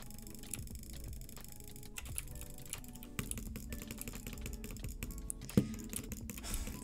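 Fast, steady computer mouse clicking as a player butterfly-clicks during a PC game, dense rapid clicks running throughout with one sharper knock near the end, close and alone without talk.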